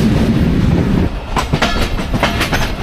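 The Dhalarchar Express passenger train running on rails between Pabna and Rajshahi, a loud continuous rumble with rhythmic clickety-clack of wheels over rail joints, heard from on board without talk.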